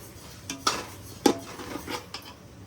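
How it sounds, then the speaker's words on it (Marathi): Onion roasting in a pan while a spatula stirs and scrapes it, giving a few sharp metallic clinks against the pan over a soft background hiss, with no talking. "तरी पण अजून हा कांदा भाजतोय."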